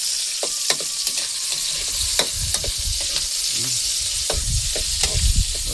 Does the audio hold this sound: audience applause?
no